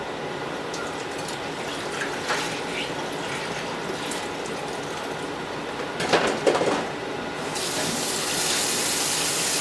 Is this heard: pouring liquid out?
yes